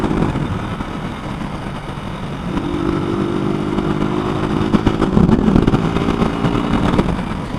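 A Honda CG motorcycle engine fitted with a new Koso 28mm carburetor runs steadily and close by, its low rumble deepening into a stronger, revving drone partway through, with no talking.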